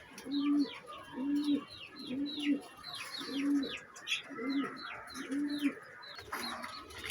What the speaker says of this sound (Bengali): পাকিস্তানি লালদম কবুতর দেখাচ্ছি।